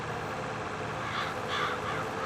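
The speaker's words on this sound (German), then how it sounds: "Vogel!" Crow cawing in Landwirtschafts Simulator 22 (Farming Simulator 22), a steady ambient game bed with a couple of short, moderately distant caws rising midway through.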